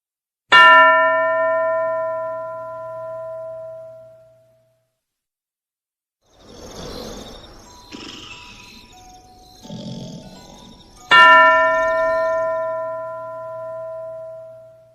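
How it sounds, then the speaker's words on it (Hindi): A classroom bell rings twice, each a clear ringing strike that fades slowly, with rougher growling noises filling the gap between the two rings. "फिर अगले बच्चे के लिए घंटी बज जाएगी"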